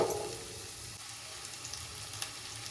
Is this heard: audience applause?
no